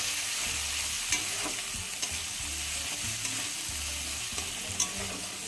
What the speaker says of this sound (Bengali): এইভাবে ভাজতে থাকবো, ভালো করে ভেজে নেব।